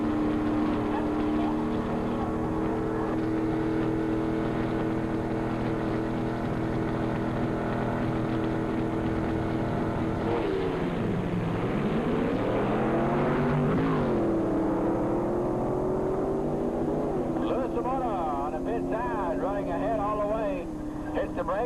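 Drag race cars, including a little green Chevy Nova, at Valley International Dragway in 1985, a steady loud engine drone with a swooping pitch dip and rise midway, heard under continuous announcer commentary.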